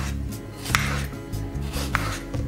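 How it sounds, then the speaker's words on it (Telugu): A knife cuts tomatoes into long pieces on a board, two sharp chopping taps over a soft background hum with no talking. "ఇలా పొడవుగా ముక్కలు కోసుకుని ఒక గిన్నెలో వేసేసుకోండి"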